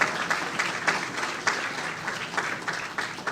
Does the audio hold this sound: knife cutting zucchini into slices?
no